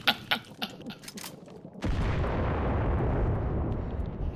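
Video-game gunfire: a few sharp, scattered shots followed by a sudden loud roaring burst of sustained firing or explosion that holds steady to the end.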